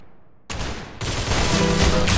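Rapid gunfire in the Roblox game Arsenal during a headshot, a dense burst of loud crackling shots that starts abruptly and continues as a sustained fusillade, with no talking.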